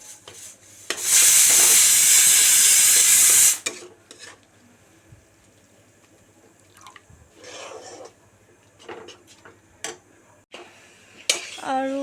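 Paneer frying in a pan, a loud burst of hissing sizzle early on, then quieter scraping, stirring and clinks of a utensil against the pan with light dripping sounds.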